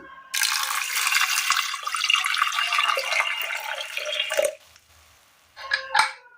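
Water pours steadily into a metal pressure cooker for about four seconds, then stops; a brief clink and trickle follow.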